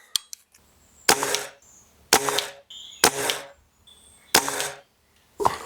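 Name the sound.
Air Arms TX200 air rifle shots at target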